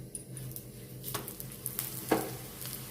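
Bajra and spinach paratha sizzling in ghee on a hot pan, a steady soft frying hiss with a few brief clinks and stirring scrapes, close and fairly quiet with no talking.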